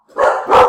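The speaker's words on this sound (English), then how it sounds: "Sorry for the dogs barking." Two quick, loud barks from a nearby dog, one right after the other, with nothing else audible.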